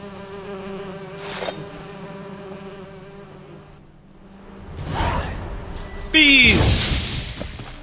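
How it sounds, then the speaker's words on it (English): Bees buzzing in The Witcher 3, droning insect hum that swells and fades in passes, with a whooshing sweep near the end, under faint background tones and a voice. "The birds singing, the bees buzzing."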